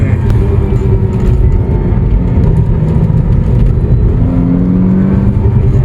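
An Alfa Romeo on a test drive, heard from inside the cabin, gives a loud, steady engine and road drone, with the tone climbing briefly near the end.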